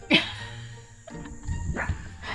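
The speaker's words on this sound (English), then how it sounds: "Sorry, you can hear my dog barking." A single sharp dog bark rings out near the start, followed by faint shuffling and low background noise, heard from inside a teardrop camper.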